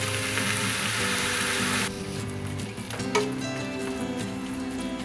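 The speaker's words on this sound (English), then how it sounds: "You've got that sweet, lovely sizzling sound." Onions and peppers sizzle steadily in hot oil in a pan for chili con carne, a dense, close frying hiss that is loud at first and then settles into a softer, continuous crackle with no talking.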